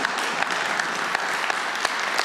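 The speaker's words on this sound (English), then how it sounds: "Give him a big clap." A church congregation claps for someone during a sermon, a dense burst of applause that fills the room briefly at close range without any voices over it.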